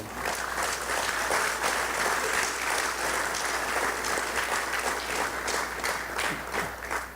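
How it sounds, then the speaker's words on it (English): Steady, dense applause from a seated audience at a government keynote address, a continuous wash of many hands clapping at moderate loudness throughout without pause. "I ask the audience to give a loud round of applause to all those who operate Maxi taxis"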